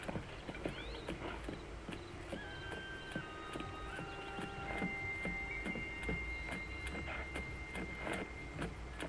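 Hooves clip-clop at a steady walking pace in The Legend of Zelda: Tears of the Kingdom, close and clear, with faint tonal game sounds in the background.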